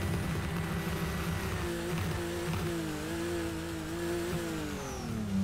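Nissan R32 drift car in the racing game Torque Drift, its engine revving steadily and loudly, pitch rising and dipping in smooth sweeps through the gears, close and continuous with no talk over it.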